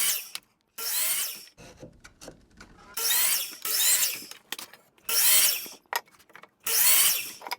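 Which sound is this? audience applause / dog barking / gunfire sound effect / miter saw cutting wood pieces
miter saw cutting wood pieces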